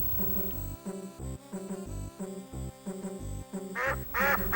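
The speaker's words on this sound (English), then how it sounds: "We got some geese." Cartoonish geese quack in a video game on the Amiga CD32, a series of nasal honking quacks set in a bouncy, repeating chiptune-style rhythm, with a brighter squawk near the end, loud and close.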